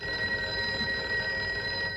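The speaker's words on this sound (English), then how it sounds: "I was greeted by a sound very much like that of a phone ringing." A telephone rings as a radio drama sound effect, a steady electric bell tone holding continuously and clearly, close and alone without any voices.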